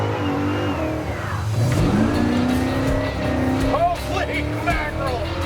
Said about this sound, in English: Today we're going to walk around and test drive a custom-built 1957 Chevy.